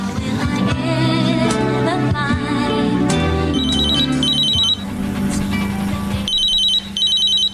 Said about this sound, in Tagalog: bigla na lamang ako nagising nang mag-ring ang cellphone ko